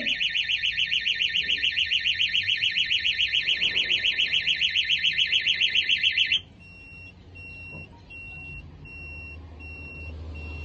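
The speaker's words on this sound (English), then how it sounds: "The smoke is now stopped, the alarms are going, we're going to unset the system." An office alarm sounds in a smoke-filled room, a loud rapid pulsing electronic beep that repeats steadily, then abruptly switches to a quieter intermittent tone with low background rumble.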